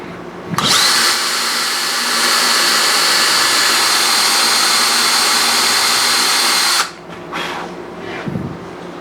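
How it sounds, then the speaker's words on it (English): Power drill boring a fret marker hole into a bass guitar neck, a loud steady whine lasting about six seconds, then cutting off with a few brief trailing bursts. "now I've got this drill bit, and I'll drill."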